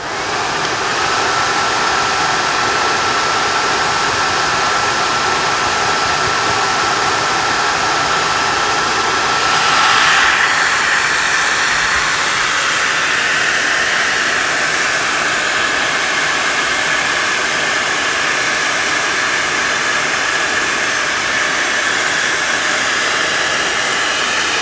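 A Kiara Sky nail dust collector runs at its highest speed, a loud, steady, close airy fan roar that holds unbroken throughout, with a slight shift in tone midway and no voices.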